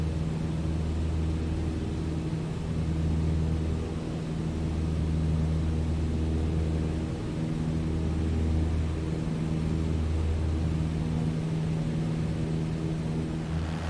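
Steady drone of a Cessna 152 engine during takeoff in Microsoft Flight Simulator, a constant low hum with slight swells, heard alone without voices.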